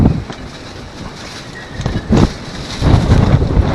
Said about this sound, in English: Well, it's a good windstorm today